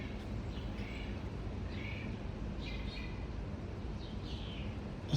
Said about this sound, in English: I like to hear the birds.